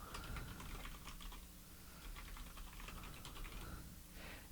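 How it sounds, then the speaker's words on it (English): Rapid typing of an email address on a computer keyboard: a steady stream of light, close key clicks with small pauses between bursts, heard alone in a quiet room. "I'm going to type in my email address."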